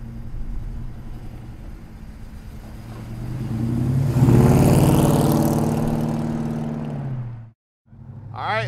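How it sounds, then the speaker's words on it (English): Big-block 428 V8 with a loud aftermarket exhaust in a 1969 Ford Torino Cobra, rumbling steadily before swelling into a strong rev that slowly fades; the sound then cuts off briefly and returns. "It's got an awesome sounding exhaust system on it. These 428s sound so bad."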